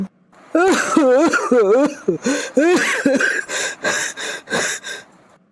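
An old man coughs harshly in a rapid series of close, loud fits, his throaty, voiced wheezes and groans running between the bursts before they taper off.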